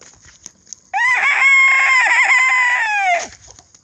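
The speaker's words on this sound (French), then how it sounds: "Désolé pour les chants de coq. C'est le coq du voisin." A neighbour's rooster crows once nearby, a loud drawn-out cock-a-doodle-doo lasting about two seconds that rises and falls before breaking off, with faint background noise before and after.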